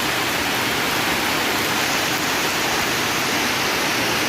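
Heavy rain driven by strong wind over a flooded parking area, a dense, loud, unbroken roar of downpour that stays steady throughout with no voices.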